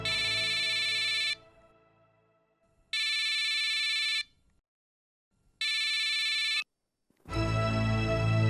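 A phone ringtone rings three times in steady, evenly spaced bursts with silent gaps, loud and close, before a louder burst of sound cuts in.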